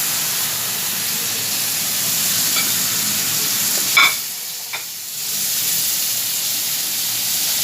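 Boiled potatoes frying and being stirred in a pan for a veg shawarma filling, a steady close sizzle with a brief scrape or clatter midway, then the hiss continuing.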